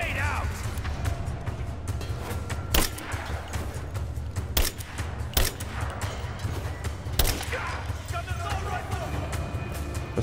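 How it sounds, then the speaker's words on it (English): Gunfire and explosions in the Rise of the Tomb Raider video game during a prison break fight, sharp cracking shots scattered across a dense, rumbling game soundscape, with someone talking over the action throughout. "Grenade out."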